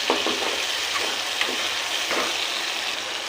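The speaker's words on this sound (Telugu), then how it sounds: "ఈ పేస్ట్ని అయితే వేసిన తర్వాత దీన్ని మంచి సువాసన వచ్చేదాకా బాగా ఫ్రై చేసుకోవాలి." Ground masala paste sizzling steadily in hot oil for chicken fry, a continuous close frying hiss with a few soft stirring scrapes, no voices.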